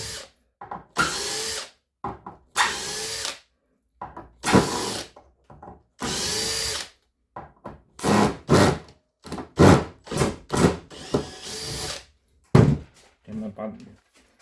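A Makita cordless drill driver drives black screws into wood in short, loud bursts of whirring, about a dozen separate runs spaced by silences, with a few soft thunks between.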